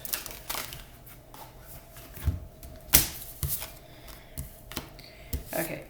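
A tarot card is pulled from a deck, heard as soft papery shuffles, scrapes and flicks with one sharper snap of card stock partway through, near and fairly quiet.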